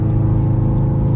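A 2021 Dodge Durango R/T engine revs on a paddle-shift downshift, a brief, loud, steady mid-pitched engine drone.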